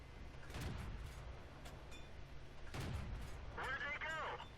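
Tank guns fire in World of Tanks, with two heavy booming shots about two seconds apart over a steady rumbling engine bed and a short warbling game tone near the end.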